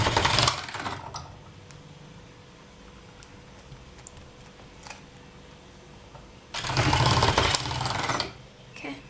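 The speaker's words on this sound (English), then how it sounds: "I just will continue going through this process of folding and rolling" Polymer clay is folded and rolled, probably through a roller. Two loud bursts of rolling and mechanical working, one at the very start and a longer one near the end, frame a quieter stretch with faint handling noises. Nobody speaks.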